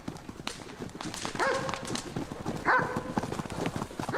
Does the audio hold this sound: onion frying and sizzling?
no